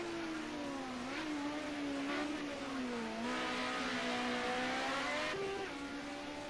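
Group A touring race car engine in the Project Cars racing game, howling steadily with rising and falling revs as the rear end slides loose at Bathurst, a continuous near drone with no talking.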